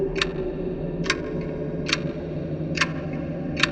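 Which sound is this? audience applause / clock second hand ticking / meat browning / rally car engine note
clock second hand ticking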